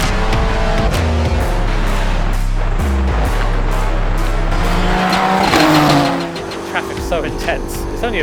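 Race car lapping a short, busy circuit, engine revving hard through gear changes with tire squeal and skidding, loud and close, with a voice talking over it.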